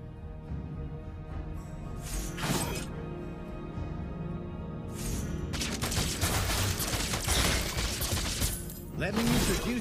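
Video game gunfire striking a turret, scattered impacts and shattering bursts that build into dense, loud firing in the second half, over game voices and background music.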